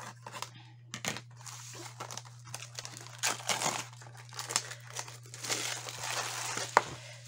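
Crinkly plastic packaging around craft and scrapbooking supplies is handled and torn open up close, with irregular crackling and rustling bursts over a steady low mains hum, one sharp snap near the end.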